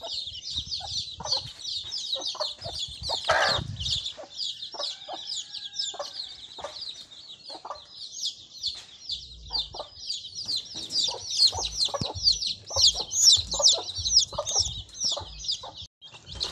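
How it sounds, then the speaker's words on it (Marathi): Chickens cluck at dusk in a Konkan village yard as the flock heads home, with steady soft clucks, occasional louder calls and a brief rooster crow, close by and continuous throughout. "बघा सर्व कोंबडी घराकडे चाललेली आहेत मंडळी."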